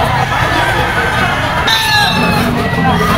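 Stag gamefowl crowing at a busy pet market, several overlapping crows rising above a constant crowd babble, fairly loud and close.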